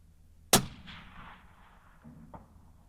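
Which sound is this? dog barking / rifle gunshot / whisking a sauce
rifle gunshot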